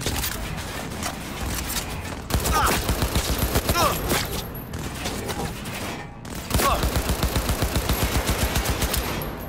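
Rapid automatic gunfire from the video game Cyberpunk 2077 rattles out in dense, loud bursts, with a short pause before the shooting resumes at a steady, fast rhythm.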